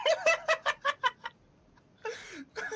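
A rubber chicken sound effect gives a quick run of seven rhythmic squawking clucks. After a pause comes a longer squeaky warble and one more squawk, close and loud.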